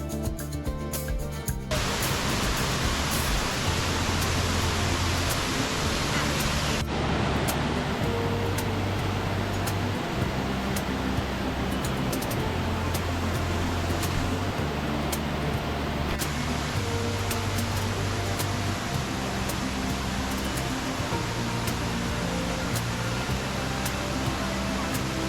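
A stream flows beside a forest cafe near Sriracha, Thailand, a steady broadband rush of running water throughout, with low background noise and faint voices mixed in.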